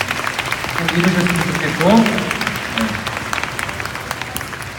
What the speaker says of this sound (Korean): 서로를 위해서 박수 한번 부탁드립니다